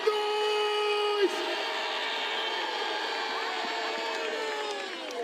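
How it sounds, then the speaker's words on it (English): Large crowd cheering and whooping at a South African political party congress opening ceremony in a big hall, a sustained roar of voices filling the venue with a brief whistle-like tone near the start. "So I'd actually like to hear the entire KZN make some noise!"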